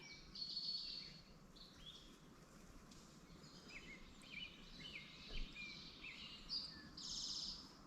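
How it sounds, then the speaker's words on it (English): An American robin sings a melodic song of short, varied whistled phrases at a moderate distance in an open prairie, mixed with other birdsong over a quiet breezy background. "that's your American robin."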